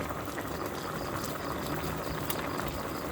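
Hot water goes into a Thai soup pot with leftover rice, giving a steady bubbling, liquid hiss that stays fairly even throughout.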